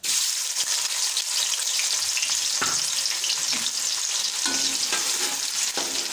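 Loud, close sizzling of onion frying in a pan, with occasional scraping stirs over the continuous crackle.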